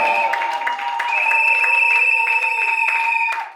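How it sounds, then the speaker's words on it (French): Guests clap for the couple at a civil and customary wedding ceremony, a dense patter of applause mixed with sustained high ringing tones that fades out at the end. "on acclame très très fort"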